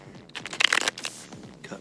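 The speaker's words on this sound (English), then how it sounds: "I'll shuffle on my leg." Tarot cards are shuffled against a leg, a close burst of papery riffling and rustling in the middle with softer card scrapes before and after, faint room voice beneath.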